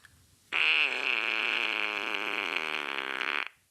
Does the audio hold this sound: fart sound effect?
yes